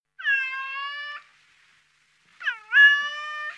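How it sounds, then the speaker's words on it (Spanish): Two clear, drawn-out cat meows separated by a short silence, close and fairly loud, with no other sounds around them. "¿Un gato de verdad? ¿Uno que dice miau?"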